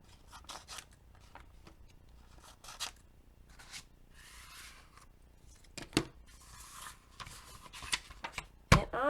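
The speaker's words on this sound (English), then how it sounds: "And I'm going to cut the corners again." Scissors snip through the corners of paper pages for a small 4-inch meander book, a series of close, crisp cuts with soft paper rustling between them, no talking.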